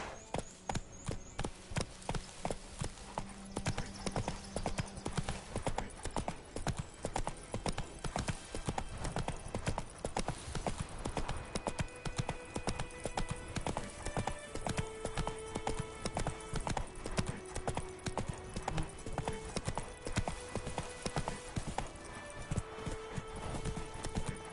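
A horse gallops in The Witcher 3, with rapid, even hoofbeats drumming steadily for the whole stretch at close range, over faint game ambience and occasional tonal music.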